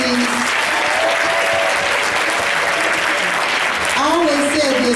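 A stand-up comedy audience at a Kwanzaa event in Buffalo, New York claps in a dense, sustained round of applause throughout, with a voice faintly audible beneath it.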